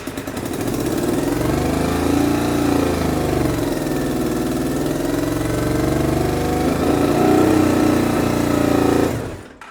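Honda VFR 750 motorcycle engine, just fitted with rebuilt carburettors, runs close and loud with a steady, slightly uneven idle throughout, its pitch wavering a little before cutting off at the end.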